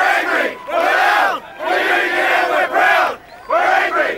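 A large crowd of union construction workers chants in unison at a street protest, loud rhythmic shouted phrases repeating in waves with brief pauses between lines.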